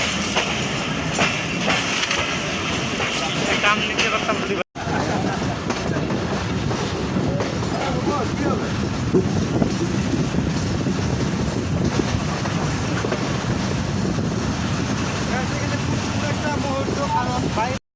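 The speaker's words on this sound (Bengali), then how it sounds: "বরেন্দ্র ট্রেনটি প্রায় 25 মিনিটের মতো বিলম্ব নিয়ে চলাচল করছে" Barendra Express train running on rails in Bangladesh, a steady loud rumble with rhythmic clatter of wheels throughout, interrupted by a brief dropout near the start, with a voice talking over it.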